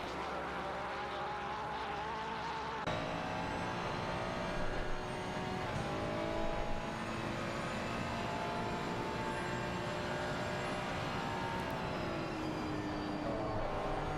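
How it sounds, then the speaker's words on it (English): Ferrari and Porsche GT3 race cars at Suzuka in a sim racing game, engines droning steadily and continuously with a sustained high whine throughout, no voices over the sound. "the Ferrari is clearly gaining on the Porsche there on the straight"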